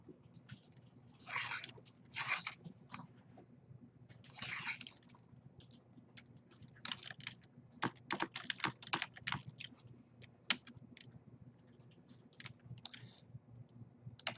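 Typing on a computer keyboard while entering employee information into an Excel spreadsheet, with quiet, irregular bursts of clicky keystrokes and short pauses, heard close up with no talk.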